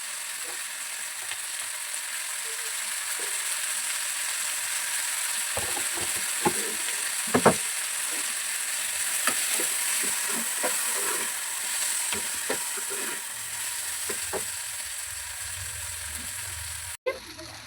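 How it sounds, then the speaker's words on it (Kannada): Onions softening in a hot pan with a little oil, turmeric about to go in, a steady low sizzle running throughout with scattered clicks and scrapes of a spoon stirring. "ಸ್ವಲ್ಪ ಬಾಡಿಸ್ಕೋಬೇಕು ಈರುಳ್ಳಿ"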